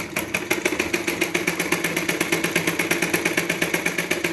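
Sewing machine stitching a blouse, running at a fast, even pace with a rhythmic mechanical chatter of rapid repeated pulses, close and fairly loud, without pause.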